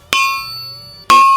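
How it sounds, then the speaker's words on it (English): Two hard hammer strikes on an 1800s steel anvil, each a sharp bright clang that rings on with a long sustained metallic tone, about a second apart, loud and close. "You ever heard an anvil? Old steel sounds like this."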